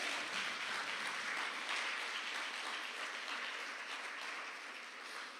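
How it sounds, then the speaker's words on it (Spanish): A church congregation applauds during a Spanish-language service, a soft, distant wash of steady clapping that fades slightly toward the end. "Dele un aplauso a Dios."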